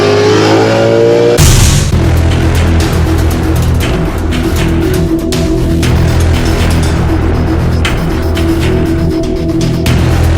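A naturally aspirated Ford Mustang S550 with full bolt-ons on E85 accelerates hard. Its loud engine roar bursts in abruptly and holds steady and close throughout.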